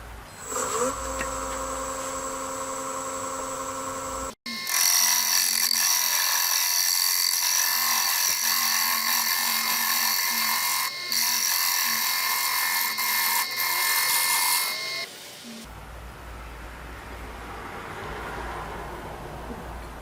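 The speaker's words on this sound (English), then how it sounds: "So I'm going to scrape it all the way up to the front edge." A small oak bowl spinning on a woodturning lathe while a scraper works the surface, giving a steady, loud whine and rasp that runs for about ten seconds before the cut lifts off and the motor keeps humming.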